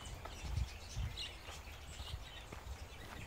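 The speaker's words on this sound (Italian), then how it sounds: "Una voliera con diverse decine di esemplari di pappagalli, il cui cinguettio si sente lungo tutti i viali del parco." Parrots chirp from a large aviary holding several dozen birds in a lakeside botanical garden, quick faint calls scattered over a soft outdoor background.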